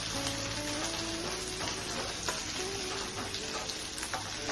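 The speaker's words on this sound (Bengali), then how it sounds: "ফ্রাই দিচ্ছি, মশলাগুলোকে কষিয়ে নিচ্ছি।" Ginger, garam masala, cumin and dried red chillies fry in hot fat in a pan for vegetarian cholar dal, giving a steady, close, loud sizzle throughout, with faint stirring scrapes underneath.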